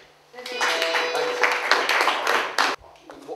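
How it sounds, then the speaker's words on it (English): A brief burst of clapping and applause from a small group, steady for a couple of seconds before cutting off. "Round of applause, please."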